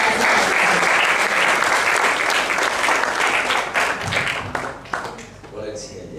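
A university lecture audience applauding a speaker, dense sustained clapping that thins out toward the end as voices come through.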